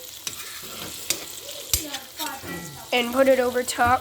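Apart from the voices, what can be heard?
butter sizzling while basting a steak in a pan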